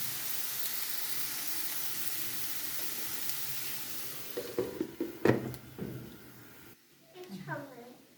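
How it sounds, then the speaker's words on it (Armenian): Carrots frying in a pan make a soft, steady sizzle that thins out near the end, with someone talking over the cooking. "Ավելացրեցի գազարը, գազարն է հիմա մի փոքր կտապակեմ"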